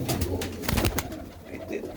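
A pair of pigeons coos in low, rolling calls up close, mixed with a few brief fluttering bursts that could be wing flaps.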